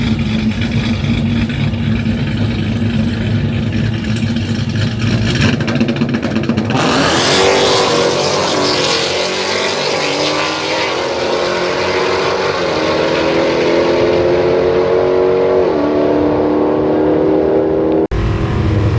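Frostbite, a Mopar drag racing truck at a 10.0 class event at the Rock, idles loudly and then launches hard, its engine roaring up through the gears in a sustained near, rising howl before a sudden cutoff.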